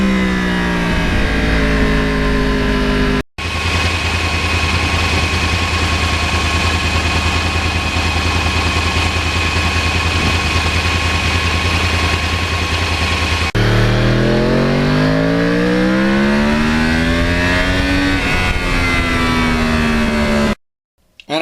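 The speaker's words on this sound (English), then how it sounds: "The sound of the crossplane is a unique thing, and it sounds great while you're riding the bike." A Yamaha R1 with a crossplane engine revs loudly and close, its uneven, throbbing tone climbing and falling through several throttle sweeps, holding a steady drone between rises before cutting off at the end.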